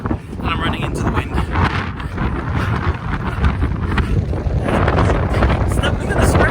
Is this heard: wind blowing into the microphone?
yes